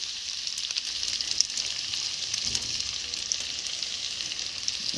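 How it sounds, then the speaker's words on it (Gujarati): Pasta and sauce frying in a pan make a steady, bright hiss and sizzle throughout, close and fairly loud, with faint stirring scrapes mixed in and no voices. "તો આપણે મિત્રો આ મસાલા જે આવ્યા છે એ પાસ્તા નાખી દઈ. ને આ સોસ જે છે ને એ મસ્ત આવેલા છે એ નાખી દઈ."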